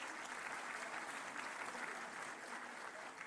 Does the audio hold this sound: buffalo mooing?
no